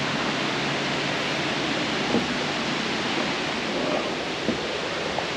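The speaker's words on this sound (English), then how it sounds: "Just one more glimpse of the waterfall." Brandywine Falls waterfall in Cuyahoga Valley National Park, Ohio, a steady broadband rush of falling water heard from nearby, constant throughout with a couple of faint footsteps or knocks.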